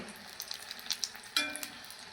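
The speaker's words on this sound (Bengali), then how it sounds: "এই পকোড়াগুলো ভাজার সময় কিন্তু হালকা আছে ভাজতে হবে" Pumpkin pakoras sizzle and crackle in hot oil, close and steady, with small pops and a brief louder hiss as something stirs or drops in.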